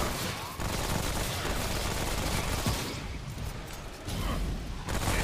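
Rapid gunfire in a multiplayer shooter video game as a player accidentally hits a teammate with incendiary rounds, dense bursts filling the clip almost continuously with brief dips in intensity.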